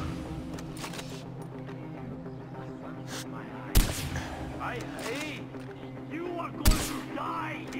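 Scoped rifle shots fire in a video game, two loud booming cracks spaced a few seconds apart over a busy layer of game sound effects and background noise.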